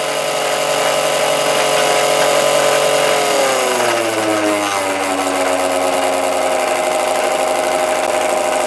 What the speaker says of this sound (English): There you go with a bit of a close-up of the E020 motor.